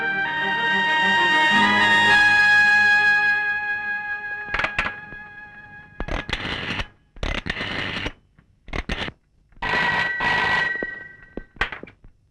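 A telephone rings at a police station, with a long steady ring at first, then several short separate bursts of ringing with gaps between them, loud and close.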